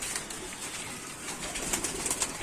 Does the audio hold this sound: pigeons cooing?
yes